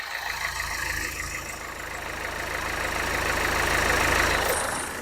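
A Nissan sedan's engine idles steadily at close range, a continuous low hum with a faint knocking texture that rises slightly in loudness midway, with no voices.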